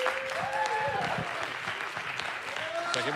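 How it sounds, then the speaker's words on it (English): A conference audience claps as two speakers take the stage at a blockchain mainstage event, a moderately loud, continuous patter with whoops and voices rising over it. "I need a very big round of applause for these guys"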